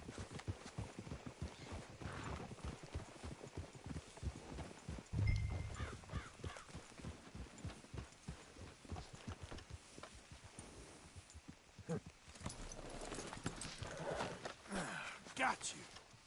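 Horses clip-clop at a walk in the video game Red Dead Redemption 2, with a steady run of hoof thuds and an occasional neigh, while people talk over much of it.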